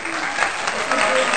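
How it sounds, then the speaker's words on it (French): Audience applause after an interview for a monthly interview segment, a steady dense wash of clapping throughout, fairly loud and close, with no clear voices on top. "On l'applaudit"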